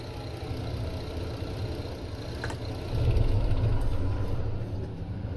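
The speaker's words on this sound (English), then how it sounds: "Got to turn the engine off, of course." Coach engine idling in the Fernbus Simulator video game, a steady low rumble that swells louder for the final stretch, with no one speaking.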